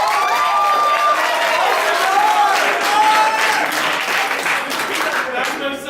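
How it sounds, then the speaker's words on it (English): Audience applause with some cheering for comedian Cameron at a stand-up joke-off show, a steady, loud crowd roar of clapping filling the full stretch, with scattered voices and whoops mixed in. "Let's give Cameron a round of applause."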